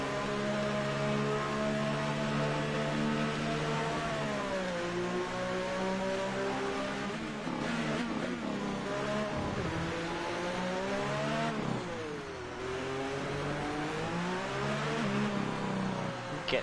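A McLaren Formula 1 car in the F1 2018 racing game accelerates hard through its gears at the Russian Grand Prix, with a loud, continuous high-pitched engine whine rising and dipping at each shift, no voices present.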